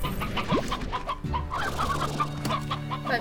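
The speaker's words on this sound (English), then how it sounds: "Ooh, rooster." A rooster in the video game Slime Rancher clucks repeatedly at close range, a steady run of short fowl calls over a light game background.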